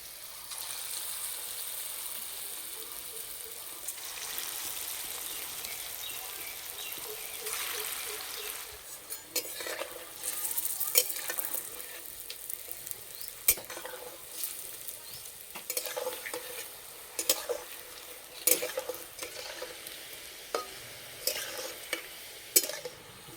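Ripe banana fritters fry in oil over low heat, giving a steady soft sizzle with bubbling, while intermittent scrapes and taps of stirring punctuate the second half.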